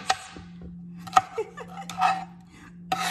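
Knife cutting bell peppers on a cutting board while preparing stuffed salmon: several sharp clicks and knocks of the blade striking the board, close and fairly crisp, spaced irregularly over a steady low hum.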